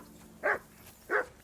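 A dog in a video game barks twice, two short, clear, evenly spaced woofs over a quiet background.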